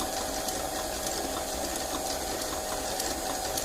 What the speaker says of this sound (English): Getting noisier this mixer, isn't it?